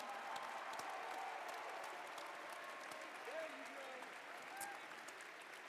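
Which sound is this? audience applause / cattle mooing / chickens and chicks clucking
audience applause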